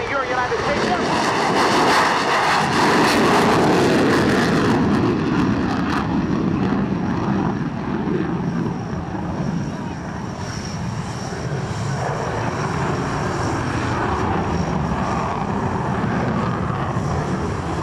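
An F-22 Raptor fighter jet roars past at an airshow, heading home to Langley, its loud, sustained engine rumble swelling then slowly fading while an announcer speaks over a public address system.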